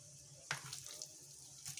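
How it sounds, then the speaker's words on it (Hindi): Water from a tap runs into a bowl of chicken marinade with vinegar, yogurt, flour and gram flour, a faint steady trickle with a few brief splashes, recorded close in a quiet kitchen. "थोड़ा सा हम इसके साथ पानी ऐड करेंगे"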